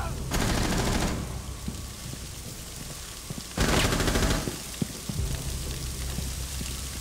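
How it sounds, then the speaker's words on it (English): Gunfire in the video game Rainbow Six Siege, two loud, sustained automatic bursts several seconds apart over steady game ambience, with faint talk underneath. "Where'd you get shot from, Sterling?"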